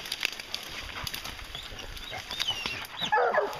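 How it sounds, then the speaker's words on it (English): Hunting dogs bark outdoors during a wolf patrol in Wisconsin, with sharp, scattered barks at a middling distance and louder yelps and whines building near the end. "Get him, you dogs. Good dogs."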